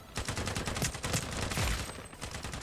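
Rapid automatic gunfire from the online shooter game Sabotaj, loud dense bursts of shots crackling one after another across the whole stretch with no voice over them.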